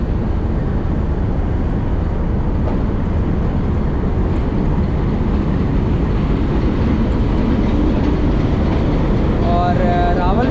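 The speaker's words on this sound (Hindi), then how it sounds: "6 राउंड का रेक वो सामने से आ रहा है 8064 HBU20 के साथ" A six-coach train rake hauled by locomotive 8064 HBU20 approaches, heard as a loud, steady rumble of wheels and engine from aboard another train, with a faint tonal whine rising near the end.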